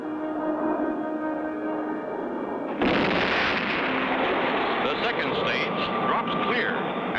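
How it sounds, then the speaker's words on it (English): A cartoon rocket's third stage ignites with a sudden loud, sustained rushing roar that cuts in after a few seconds of orchestral music and keeps going. "and the third stage rockets light up"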